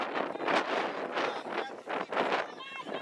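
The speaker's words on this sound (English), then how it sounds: "It's a little windy out tonight, or right now." Gusty wind buffets the microphone outdoors at a cross-country running race course, rising and falling in broad, rough surges for about three seconds.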